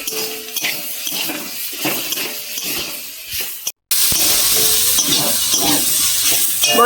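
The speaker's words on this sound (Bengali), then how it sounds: "ভালো করে নেড়ে চেড়ে একটু ভেজে নেবো ভালো করে কষিয়ে।" Spice paste and snake gourd are stirred and fried in a pan, with scraping strokes over a sizzle, then a brief cut and a louder, continuous hiss of frying afterward.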